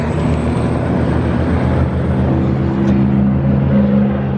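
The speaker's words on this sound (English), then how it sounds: "these very loud noises are the trucks that bring the pigs to slaughter" Heavy trucks hauling pigs to a slaughterhouse rumble past on a street beside a gas station, a loud, continuous low engine drone that holds steady throughout with no talking.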